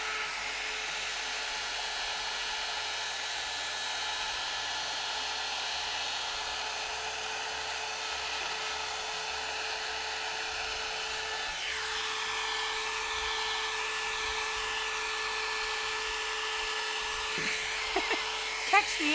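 A handheld hair styler blows hot air over alcohol ink on an Easter egg decoration, producing a steady, close, whirring drone. It runs throughout the clip, and its tone shifts partway through.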